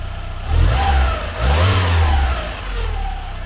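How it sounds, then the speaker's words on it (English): A Mk2 VW Golf engine fitted with a Weber carburettor, recently adjusted after stumbling, is blipped twice from idle. Two loud, close throttle revs rise and fall, then the engine settles back to a steady idle. "So, give the throttle a flip."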